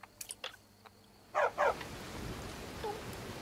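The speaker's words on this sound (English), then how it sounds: "Stupid dog." Two sharp dog barks from a dog in The Elder Scrolls V: Skyrim, close and loud, standing out above faint ambient rain-like noise, with a few softer clicks before and a faint whine afterward.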